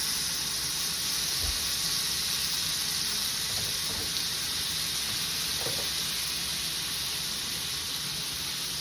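A steak sizzles in a hot pan after Worcestershire sauce is added, giving a steady, close crackling hiss that stays even throughout, with no voices.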